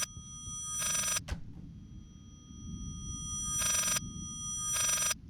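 In the horror game Layers of Fear, a telephone rings in short bursts, one near the start and two more toward the end, set against a low, quiet rumbling ambience.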